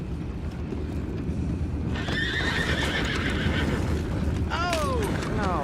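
Horses in Red Dead Redemption 2 whinny twice over steady hoof clip-clop and a low rumbling background, with voices talking under the game sounds.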